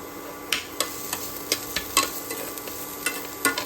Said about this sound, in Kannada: ಉಪ್ಪು ಹಾಕಿದ ತಕ್ಷಣ ಆನಿಯನ್ ಆ್ಯಂಡ್ ಚಿಲ್ಲಿ ಚೆನ್ನಾಗಿ ಫ್ರೈ ಆಗುತ್ತೆ